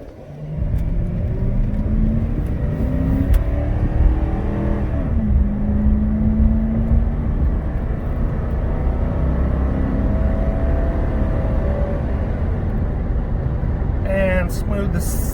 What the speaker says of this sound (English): I'll get us a little hard acceleration up the road here in just a second.